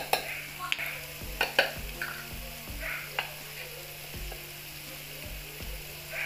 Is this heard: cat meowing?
no